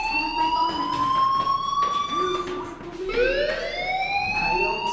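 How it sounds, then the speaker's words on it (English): A rising, wailing electronic alarm sounds through a school in the video game Life is Strange. It repeats loudly across the clip with sweeping pitch glides over background clatter. "do you hear that fire alarm? That means you should be outside."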